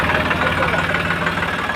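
A tractor engine with a rotavator attached runs steadily at close range, a loud, continuous rumbling idle with a rough, knocking throb and no pauses.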